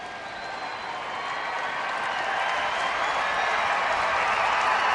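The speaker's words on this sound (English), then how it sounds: "Sellout crowd here at Rangers Ballpark in Arlington" A sellout crowd at Rangers Ballpark in Arlington during a baseball game cheers and claps as a steady, broad roar that swells slightly louder over a few seconds, with no clear voices over it.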